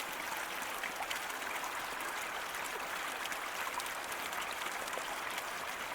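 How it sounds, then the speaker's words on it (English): Water running through a self-feeding hobby gold-mining sluice box, a steady, fairly faint wash and trickle with no break for six seconds. "Oh, I got water going everywhere."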